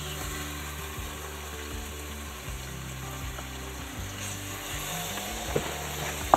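A steady, close sizzle of food frying in a pan, with a low rhythmic hum running underneath and a couple of small clicks near the end, heard alone without speech.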